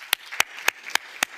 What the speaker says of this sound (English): Please join me in giving them all a round of applause.